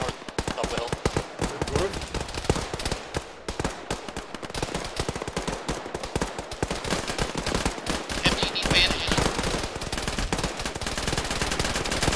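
Sustained automatic gunfire in the ARMA military game, rapid machine-gun bursts and scattered shots rattling continuously and loudly, with radio-style voices talking intermittently beneath.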